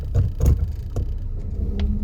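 An old, cheap used Volvo car starting up, with a few sharp cranking bursts followed by the engine catching into a low, uneven idle, heard up close.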